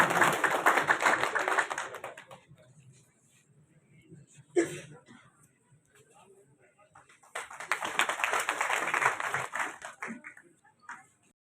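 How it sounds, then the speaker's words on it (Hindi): Audience applause at a labour union felicitation event in Udaipur, a loud burst of clapping, a quieter stretch with a single sharp tap, then a second sustained round of applause fading out. "तालियां बजाने में कोई कमी नहीं रखें"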